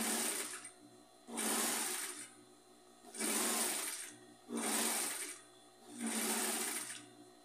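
A sewing machine stitches fabric for a round knit-scrap rug in five short bursts of rapid, whirring needle strokes, each about a second long, separated by brief pauses. It is close and fairly loud.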